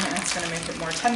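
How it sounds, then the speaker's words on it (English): Steady watery rushing and sloshing of a running dishwasher in the background, with a person talking over it. "Didn't think about the fact that my dishwasher is running."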